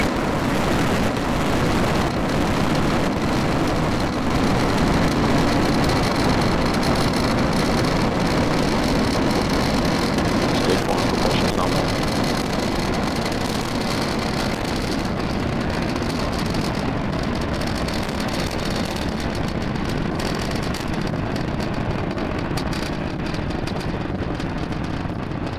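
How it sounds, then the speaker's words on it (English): The roar of a SpaceX Falcon 9 rocket after liftoff on a Starlink mission is a broad, rumbling, steady wash of noise. It comes from a distance, continuous and dense, and thins slightly toward the end. "we have just had liftoff of our Falcon 9 vehicle carrying our Starlink"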